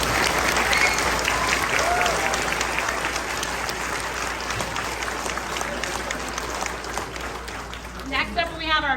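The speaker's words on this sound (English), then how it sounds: "let's give one more round of applause for our concert choir" Loud, sustained audience applause at a middle and high school spring concert, honoring the concert choir, with dense clapping throughout and a voice speaking near the end.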